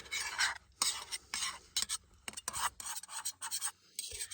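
Eggs pushed and stirred around a carbon steel skillet, giving a string of close, dry scraping rasps in short bursts with brief pauses between strokes.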